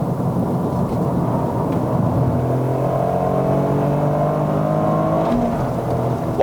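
A 2023 Toyota GR Corolla rated 300 PS and 370 Nm, heard from inside the car on a test drive in Malaysia. The engine revs loudly and steadily through a downshift, with rising harmonic tones and no talking.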